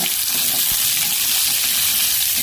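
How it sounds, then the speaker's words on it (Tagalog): Tomato, onion and garlic sauté with squash in a pan for a squash and water spinach dish, giving a steady, close, even sizzle that runs without a break. "Gisa tayo ng kamatis, lumbay, bawang, lagay natin ng kalabasa"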